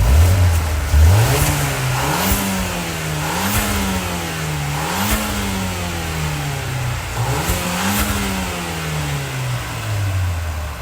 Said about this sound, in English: Let's rev up stock first and let's see what it sounds like.